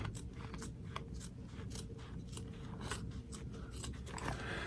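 Dull scissors snip through thick, layered fabric beside tack-down stitches on an in-the-hoop zipper bag, a quiet run of irregular crunchy cuts repeating every half second or so.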